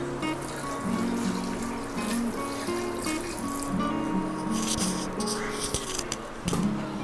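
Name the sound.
water being poured into pot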